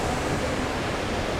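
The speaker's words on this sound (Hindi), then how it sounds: "ये तो झरना है" The waterfall at the Lost World in Gardens by the Bay, Singapore, roars as a steady, dense wash of falling water, loud and unbroken throughout.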